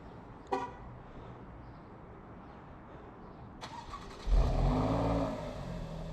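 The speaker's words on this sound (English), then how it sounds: "After that brief burst of excitement on startup, the Giulia Quad has settled down to a very mellow idle here" An Alfa Romeo Giulia Quadrifoglio fires up by remote start: a brief click, then the starter catches and the engine flares loudly before easing into a steady, rumbling idle, heard alone up close.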